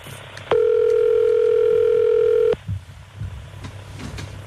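A telephone call being placed on a radio show, with one steady, loud electronic tone that holds for about two seconds and cuts off abruptly, followed by quiet line noise.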